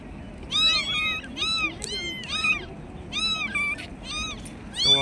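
Small kittens meow in a seaside setting, a rapid series of high, thin overlapping mews from several animals close by, with a faint voice in the background.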